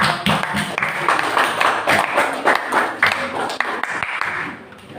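A group of students applauds in a classroom, a dense run of hand claps filling the space at close range, with voices mixed in and the clapping tapering off toward the end.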